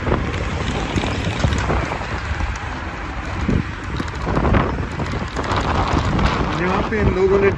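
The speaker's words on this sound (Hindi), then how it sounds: "It's windy, so maybe my voice is not clear to you guys." Gusty wind buffets a microphone outdoors beside vehicle tracks in China, a steady low roar that swells and dips, with faint voices underneath.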